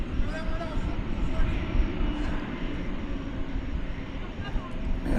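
A Qatar Airways Boeing 777 taxis at DFW Airport at night. Its engines make a steady, broad low rumble and whine from a moderate distance, with a voice talking over the noise.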